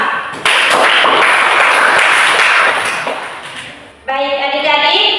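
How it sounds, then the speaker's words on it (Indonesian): Children in a classroom clap together in a loud, dense burst that tapers off. It is cut short by an abrupt switch to a bright, tonal musical sound. "Mari kita tepuk tangan kepada"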